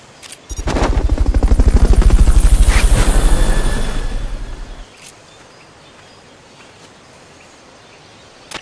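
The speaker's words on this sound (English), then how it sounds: "Fulton recovery helicopter is complete." A Fulton recovery helicopter in Metal Gear Solid Peace Walker thunders in with a loud, rapid rotor chop lasting about four seconds, then fades abruptly, leaving faint background noise.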